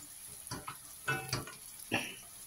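Onion and garlic frying in a pan make a faint, soft sizzle, with a few light clinks and scrapes of stirring.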